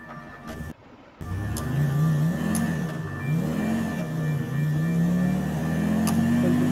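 A car engine in a video game revs and accelerates at mid pitch, rising and dipping through several throttle pulls after a short break near the start, fairly quiet and steady.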